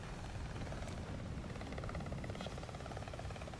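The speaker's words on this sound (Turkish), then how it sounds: "Bak drone sanki düzgün uçamıyor gibi." Drone flying in the ARC Raiders video game, a loud, steady rotor whir with rapid pulsing chop and buzzing hum, continuous and close throughout.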